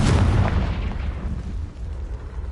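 A blast from the Confringo explosive spell in a wizarding video game erupts with a loud, deep boom right at the start and then slowly fades into a low rumbling tail, with no talk.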